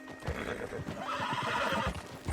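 A horse in the Red Dead Redemption 2 video game gives a loud, close whinny over a steady run of clip-clopping hooves, with no talking.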